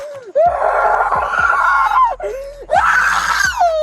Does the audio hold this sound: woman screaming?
yes